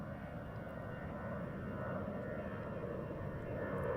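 An Aer Lingus airliner departs runway 09R at Heathrow Airport, its engines giving a steady, broad roar that swells slightly toward the end, heard continuously at a moderate distance.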